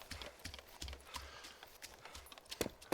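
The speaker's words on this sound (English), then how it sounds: "So here's a goat here." Goat walking in DayZ, its hooves clopping in a quick irregular rhythm of light close steps over a faint outdoor background.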